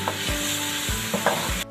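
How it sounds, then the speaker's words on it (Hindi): Capsicum frying in a pan, with a steady hiss of sizzling and a few soft scrapes of stirring, close and fairly loud, before it cuts off abruptly near the end. "अब मैं इसके अंदर शिमला मिर्च डाल दूँगी।"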